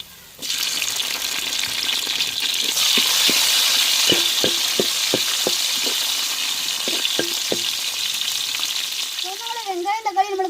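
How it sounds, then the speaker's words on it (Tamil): Shallots and tomatoes sauté in a pan for home-style sambar, a steady close sizzle broken by a run of sharp spoon taps against the pan's rim, with a short wobbling tone near the end. "சின்ன வெங்காயம் சேர்த்துக்கிடுவோம் வெங்காயம் வதங்கிருச்சுங்க தக்காளி சேர்த்துக்கிறோம்"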